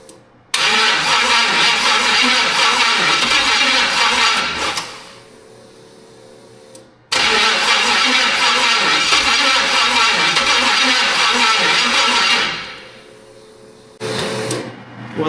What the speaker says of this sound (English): I think that starter needs to get shimmed.